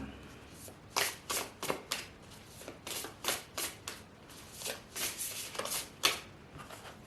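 A tarot deck is handled and shuffled, producing a series of quick, crisp card riffles and flicks in uneven bursts, close and clear over a quiet room.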